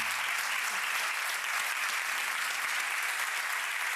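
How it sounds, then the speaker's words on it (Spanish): A congregation at a church sermon applauds in a continuous, even roar of many hands, steady and moderately distant for the whole stretch, with a brief voice at the very start. "Denle un aplauso al Señor"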